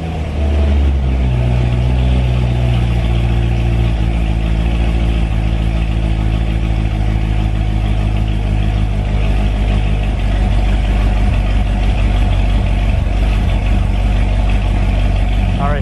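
A Z06 sports car V8 rumbles loudly and steadily at close range through the stock exhaust with its fuse pulled, with rising and falling revs over a constant low drone.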